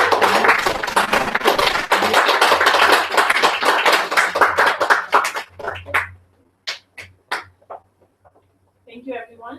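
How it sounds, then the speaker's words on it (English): Audience applause for volunteer speakers at a mastermind event, brisk clapping for about six seconds that thins into a few scattered claps, with voices murmuring over it and a person speaking at the end. "let's give our volunteer speakers a round of applause"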